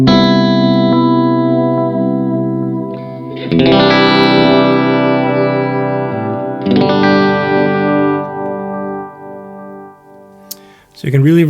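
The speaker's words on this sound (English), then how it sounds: "So let's activate the low pass filter." An electric guitar runs through a Free The Tone Flight Time delay pedal with its low pass filter switched on, so its chords and the trailing echoes sound softened in the highs; a few loud strummed swells fade into decaying repeats.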